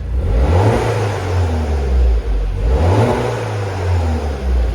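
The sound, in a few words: 2010 Mini John Cooper Works engine revving, middle silencer delete exhaust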